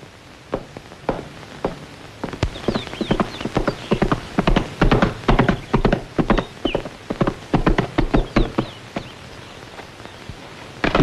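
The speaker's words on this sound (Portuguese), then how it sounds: "Que tal o cavalo? Parece bom." Horse hooves clip-clopping at a walk, a long run of sharp, fairly close hoofbeats in an uneven rhythm, with a faint whinny now and then and no talk.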